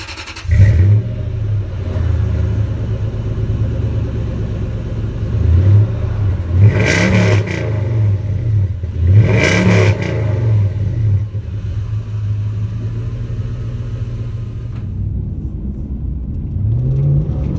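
A lifted Toyota Tundra with an aftermarket exhaust starts up into a deep, throaty idle, then gives two sharp revs that rise and fall before it settles back to a loud, close rumble.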